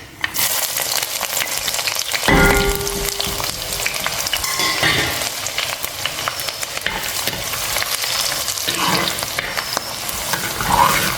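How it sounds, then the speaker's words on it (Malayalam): Ginger, garlic and green chilli frying in hot oil with mustard seeds, a steady close sizzle with crackling pops and a sudden louder burst of spitting as the ingredients go in, continuing without talk. "കടുക് പൊട്ടിത്തുടങ്ങിയിട്ടുണ്ട് ഇതിനകത്തേക്ക് നമുക്ക് ഇഞ്ചിയും വെളുത്തുള്ളിയും പച്ചമുളകും ഇട്ട് കൊടുക്കാം"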